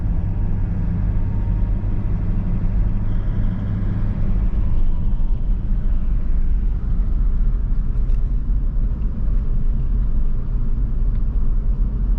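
A car drives along, heard from inside the cabin as a steady low engine and road rumble, even and continuous throughout with no voices.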